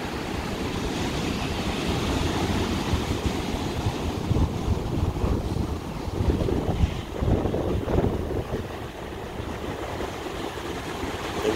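Rough ocean surf pounds the Outer Banks shore under red- and yellow-flag conditions, a continuous broad roar of breaking waves mixed with heavy wind buffeting the microphone, swelling slightly in the middle and never pausing.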